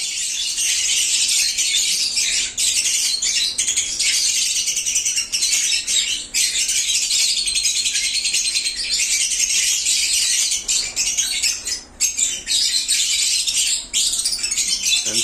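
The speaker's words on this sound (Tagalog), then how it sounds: "ipapakita ko sa inyo yung actual na pag-hatch ng egg dito sa aking kamay" A bird chick hatching from its egg in a person's hand, with constant loud, shrill chirping and peeping that continues almost without pause, close to the microphone.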